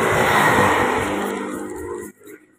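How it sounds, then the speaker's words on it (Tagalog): Motorbikes speed past on a highway in Taiwan, a loud, close roar of engines with a passing rush that fades abruptly after about two seconds, leaving quieter traffic behind. "Mabilis yung ibang motor."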